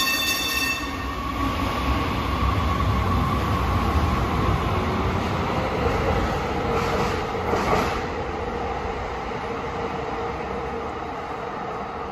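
San Francisco Muni Metro trains rumbling through Civic Center station underground, a steady loud roar of wheels and motors with rail screech and a brief horn-like tone, continuous throughout with no talk.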